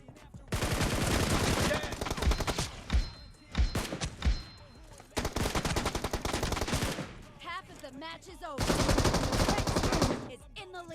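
M2 machine gun firing in a video game, long loud sustained automatic bursts broken by pauses, with voices talking in between.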